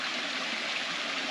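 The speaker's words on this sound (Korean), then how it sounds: "계곡 물소리 들리시나요?" A mountain valley stream on Jirisan in autumn rushes steadily over rocks, a close, continuous watery hiss with no voices.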